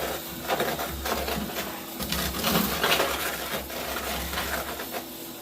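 Magnets stir black sand during a gold clean-up on a Miller gold table, giving a steady gritty scraping and clinking rattle with a low hum underneath, close and continuous.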